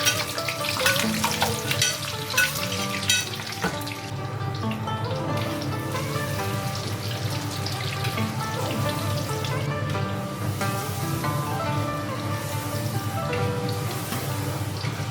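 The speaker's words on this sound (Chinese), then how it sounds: "大火炸到土豆和胡萝卜的表面起了焦壳" Potatoes and carrots deep-frying in hot oil in a wok over high heat, a steady dense sizzle with music playing throughout.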